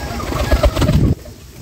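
Racer homer pigeons coo in a series of soft, throaty, close calls lasting about a second, then drop away to quiet room noise.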